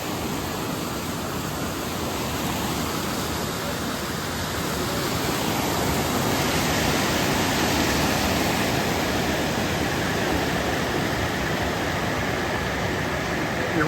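Dismal Falls, a waterfall along the Appalachian Trail, heard up close: a dense, unbroken roar of rushing water that fills the whole stretch evenly, loud and near, with no talking over it.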